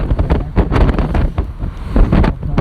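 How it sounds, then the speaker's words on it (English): Strong wind buffets the microphone outdoors on a city street, producing loud, rough rumbling gusts that pulse irregularly throughout the short stretch, with no voices. "It's so windy out here."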